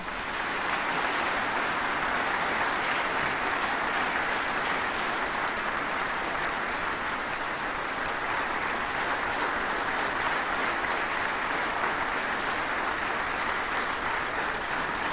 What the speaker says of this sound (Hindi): अपार हर्ष और करतल ध्वनि से स्वागत कीजिए श्री अमिताभ बच्चन जी का।